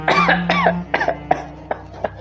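Several people cough in quick succession, a scattered mix of short harsh coughs and throat clearing, close and fairly loud.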